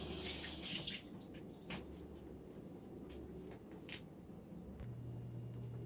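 Tap water runs steadily over hands being rinsed at a kitchen sink while cooking tomato soup, a soft continuous splash with faint background rumble.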